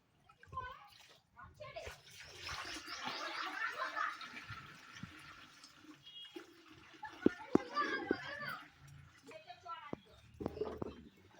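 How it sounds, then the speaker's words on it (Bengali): Water holding daphnia being poured into a container for a poison daphnia culture, a steady splashing pour that rises and fades, with a voice talking over and between the pours. "এই যে পোকাটা রয়েছে আমি একসঙ্গে এটাকে ঢেলে নেব"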